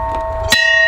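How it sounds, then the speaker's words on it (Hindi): A bell at a waterfront restaurant in Key West rings out with a sharp strike and a bright metallic tone that sustains and rings on, loud and close, over an earlier humming resonance. "और अभी घंटा बजाएंगे और यहाँ से निकल जाएंगे"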